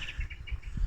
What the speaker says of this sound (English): Birdsong.